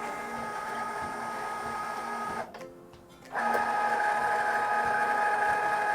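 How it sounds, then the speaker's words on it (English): A Cricut Joy Xtra cutting machine cutting sticker designs, a loud steady whirring motor drone with tonal whine and faint ticks, briefly dropping quieter for a moment before resuming at full level, with no talking. "So it's individually cutting each Astrobot design."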